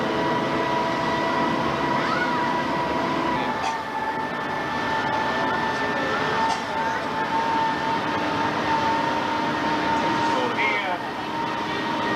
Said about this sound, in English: As the downhill train pulls down